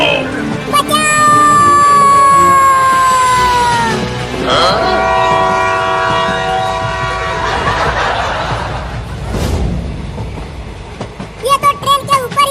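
Train running on rails, a loud rolling rumble with a long horn blast, and excited voices and laughter over it near the end.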